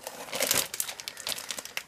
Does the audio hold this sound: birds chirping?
no